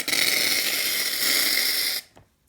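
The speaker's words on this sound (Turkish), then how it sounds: "İlk başta ben tıraş köpüğünü dökmek istiyorum." Shaving foam sprays from a can for slime-making in one steady, loud, close hiss lasting about two seconds, then cuts off abruptly.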